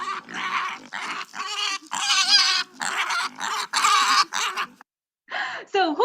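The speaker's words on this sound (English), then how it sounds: "So the name of the animal is pig." A recorded pig oinks and grunts in repeated, close, loud bursts across the span, with a brief silent gap near the end before the grunting resumes.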